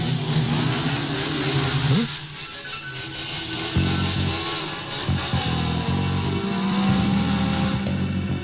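Motorcycle engines roar and rev continuously in an anime chase through a canyon, with pitch rising and shifting as the bikes accelerate, loud and sustained.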